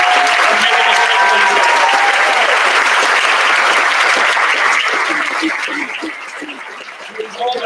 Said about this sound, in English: With all that applause